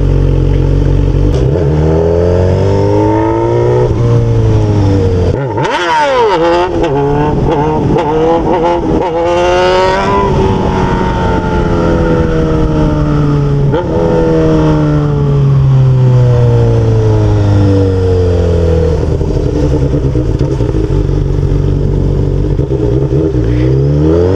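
Honda Hornet motorcycle with a straight-pipe exhaust revving hard on the street, loud and close, engine pitch climbing and falling through repeated accelerations with brief drops between gear shifts.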